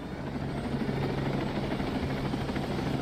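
Helicopter in the video game Ghost Recon Breakpoint, a steady droning rotor thrum with a low hum that holds evenly throughout, alone with no talk.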